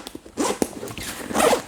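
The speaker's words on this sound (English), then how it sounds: "You can access it with this kind of zippers right here" The unbranded zipper on a Maverick & Co ProActive backpack's main compartment slides open in a soft, scratchy run lasting under two seconds, with faint handling taps.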